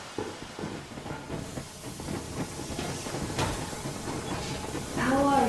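The steam train Aurora pulls away in Metro Exodus with a steady, loud hiss and rolling rail rumble. Faint clanks run through it, and a voice speaks near the end.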